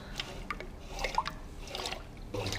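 Water drains in a pump station being dismantled, giving a faint, continuous trickle with scattered drips and splashes over a steady low hum, with no voices.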